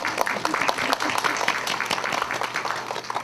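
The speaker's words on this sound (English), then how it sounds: "Can we give our panelists a round of applause?" A panel discussion audience gives a sustained round of applause for the panelists after a film screening, dense steady clapping filling the whole clip at moderate loudness with a little speech faintly mixed in.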